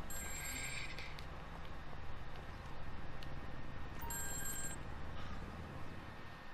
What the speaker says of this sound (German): Da klingelt nämlich das Telefon.